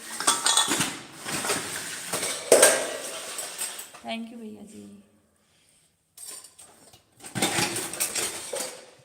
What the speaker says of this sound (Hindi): बर्तन की आवाज़ ज़्यादा जा रही होगी भैया।